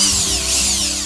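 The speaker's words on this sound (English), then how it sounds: "put your drill on torque limit" Power drill driving stainless screws into pilot holes while assembling a twin-shelf outdoor utility cart, a steady close whirring buzz lasting the whole second.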